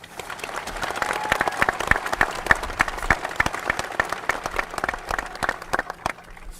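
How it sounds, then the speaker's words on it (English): A high school commencement audience applauds two graduation speakers, a steady run of dense clapping from a large crowd, with sharp individual claps standing out at moderate volume. "How about another round of applause for both of our speakers?"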